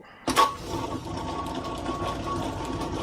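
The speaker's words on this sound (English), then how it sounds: "So we're going to turn on the lathe." A metal lathe switches on and runs steadily, a continuous mechanical whir with a faint tonal hum, starting with a brief louder surge before settling into an even drone.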